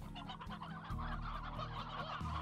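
Stony Hen from Slime Rancher, a stone-crested chicken, clucks continuously in a steady run of short, close, fairly loud calls over game background music, with no talk.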